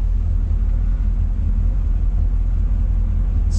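Engine of a 1964 Chevrolet Corvette convertible with a 327 V8 (250 hp) idling steadily after starting, a loud, constant low rumble close by with no talk.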